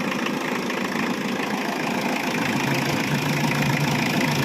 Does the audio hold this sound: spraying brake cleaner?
no